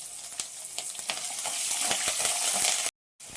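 Chopped green chillies frying in a pan while upma premix is made, a loud, close, steady sizzle with light stirring scrapes that cuts off abruptly near the end.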